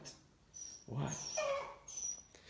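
A dog whimpers close by with a few high, wavering whines and soft vocal squeaks over about two seconds, in an otherwise quiet room.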